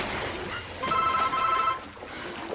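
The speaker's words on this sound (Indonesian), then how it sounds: "Nancy pun terbangun oleh telepon dari Quiet" Telephone ringing in the horror film A Nightmare on Elm Street, a short electronic ring of two pulses in the middle, fairly faint over a murky ambient background.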